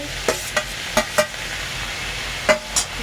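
Spoon stirring pumpkin curry with turmeric, salt and grated ginger in a pan gives several sharp scraping clicks spread out over a gentle sizzle, close and moderately loud, with no talking.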